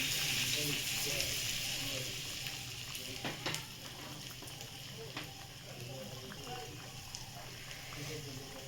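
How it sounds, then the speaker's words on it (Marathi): Garlic cloves and dried byadgi chillies tempered in hot oil for a tadka on soybean butter masala: a continuous close, bright sizzle and crackle with bursts of spattering, fading slightly after the first seconds. "आता तडका देणार आहे मी वरतून."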